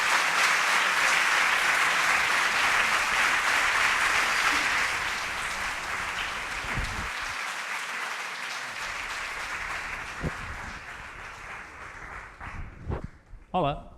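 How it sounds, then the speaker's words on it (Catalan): Full audience applause at a Catalan inaugural conference, loud at first and then easing, tapering into a few scattered claps and stage noises before a voice begins near the end. "jo us demanaria que li donguéssim un bon aplaudiment per encoratjar-lo"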